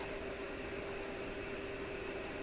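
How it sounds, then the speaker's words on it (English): A Silvertone 7054 radio speaker gives off a steady, faint hiss with a low underlying hum while the set undergoes IF alignment, unbroken and even for the whole stretch with no voices. "I can hear the slight increase in the hiss coming out of the speaker"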